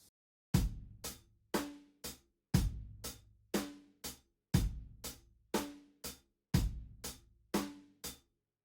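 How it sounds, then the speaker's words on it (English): A steady 4/4 rhythm on a percussive instrument gives four sharp, decaying hits per bar, with a stronger hit on the first beat. The pattern repeats cleanly through several bars with no talk. "The standard rhythm in 4/4 could sound like this."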